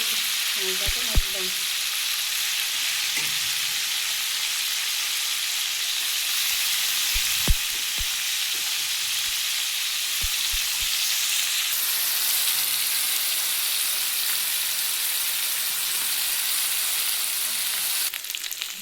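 Small, cleaned fish frying in oil give off a steady, close sizzle that runs without a break, with a few faint clinks and taps over the hiss.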